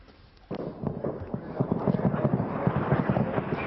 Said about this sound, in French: Plusieurs explosions comme celle-ci ont retenti à proximité des bâtiments gouvernementaux.